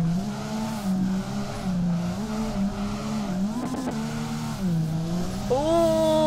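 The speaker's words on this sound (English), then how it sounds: "We got a little aggressive with the handbrake pull there." Nissan 350Z drifting in the DRIFT21 video game during a hard handbrake pull, a loud, steady engine drone with wavering pitch that dips and rises, then a sharp rev climb near the end, with no talking.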